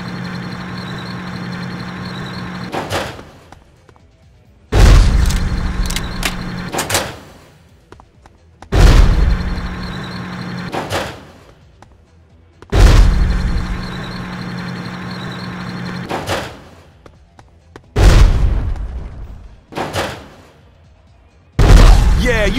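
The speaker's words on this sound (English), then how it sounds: "you pop your little bombs over here" Bombs exploding during a boss fight in the video game Bad Boys: Miami Takedown, a series of loud booming blasts at irregular intervals of a few seconds, each separated by quieter engine hum and game sounds.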